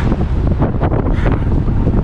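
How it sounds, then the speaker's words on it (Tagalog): Strong wind buffeting the microphone in a steady loud roar at Hyde Park, gusting throughout with no voices. "So lakas ng hangin"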